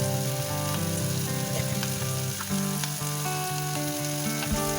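Potatoes and broad beans fry with salt, turmeric, roasted coriander, cumin and Kashmiri chilli powder, a dense constant sizzle with occasional stirring clinks, close and steady with no speech.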